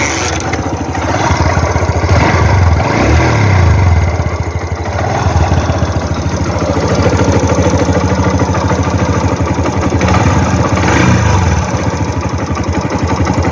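A used TVS Star Sport motorcycle engine runs close by, idling with a steady putter and a few rises and falls in revs, with no one talking.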